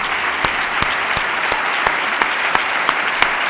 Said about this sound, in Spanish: Un fuerte aplauso para todos ellos,